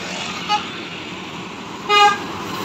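Bus horn at a toll road exit near Stabat in Aceh: a short toot, then a longer, louder two-tone blast about a second and a half later, over steady road traffic noise.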